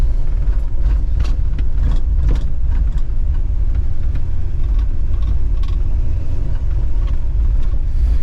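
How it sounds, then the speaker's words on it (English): A car with sludged engine internals cruising around a neighborhood to warm back up to temperature, giving a loud, steady engine rumble and road noise from inside the vehicle, continuous throughout with no talk. "just cruising around the neighborhood again, just trying to get this thing back up to temperature"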